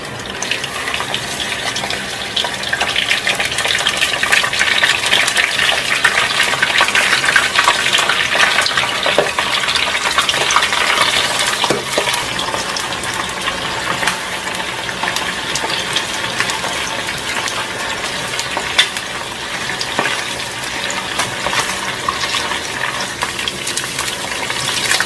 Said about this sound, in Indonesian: setelah ini kita langsung aja goreng ayamnya